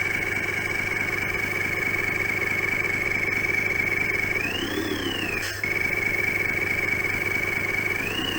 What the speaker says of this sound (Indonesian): efek suara mesin seperti mesin pelan dan menderu kencang ketika roda berputar semakin cepat